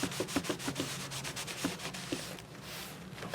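Paper is burnished down onto a traveler's notebook page with quick, quiet, rhythmic rubbing strokes, close and soft, with no voices.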